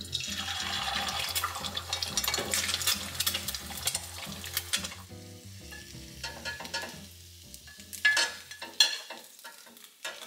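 Eggs cook in a hot pan with soft sizzling and crackling, broken by scraping stir sounds and brief clatter, moderately close and without talk.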